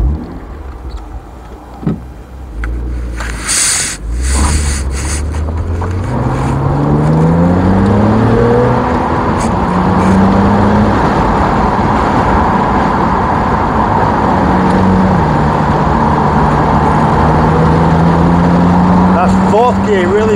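A BMW Z4 twin turbo pulls up a hill in fourth gear, the engine note climbing steadily through the revs in a loud, close drone, after a brief burst of cabin noise at the start.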